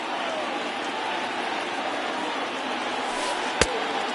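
A packed stadium crowd in a PS4 baseball video game keeps up a steady, loud roar of cheering, with one sharp knock near the end.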